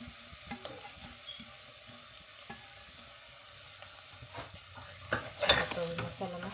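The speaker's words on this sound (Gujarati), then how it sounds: "હવે ધીરે ધીરે કરીને આપણે બટેટા નાખી દઈએ." Boiled potatoes go into a spice masala for a dry potato bhaji, and a spoon stirs them as they fry. Quiet sizzling runs under scraping strokes that build to a louder clatter near the end, with no talking.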